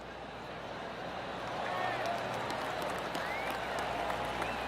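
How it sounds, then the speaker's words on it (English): Steady crowd applause from a gallery in the PGA Tour 2K23 golf video game, a dense continuous patter of clapping that swells slightly midway and holds at moderate level, with no voices on top. "That deserves a golf clap"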